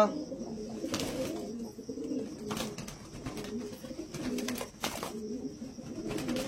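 Jira-type pigeons coo in repeated low, soft phrases with faint chirps and wing movements, heard at moderate distance against a quiet background.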